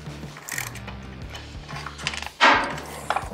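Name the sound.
ratchet wrench turning a bolt on a motorcycle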